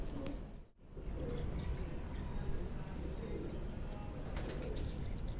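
Sialkoti breed pigeons coo softly in a loft, a few low murmuring calls mixed with faint chirps and rustling, with a sudden brief dropout near the start and low background noise.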